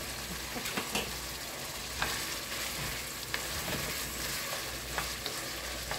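Vegetables fry in a pan for pepper beef, giving a soft continuous sizzle with scattered faint pops and clicks of stirring, quiet and close, with no voices.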